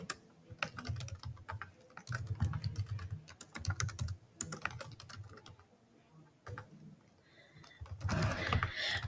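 Quick bursts of typing on a computer keyboard while entering text into a Google Docs form, clicking in close, steady runs with short pauses and a louder flurry at the end.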